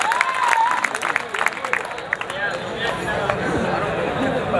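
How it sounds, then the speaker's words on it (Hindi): Applause from an audience at a Hindi kavi sammelan, a poetry gathering at the Harni Mahadev Mela in Bhilwara, bursts out at first and then thins into scattered claps and crowd chatter, with someone talking over it. "तालियां बजाएं एक बार फिर"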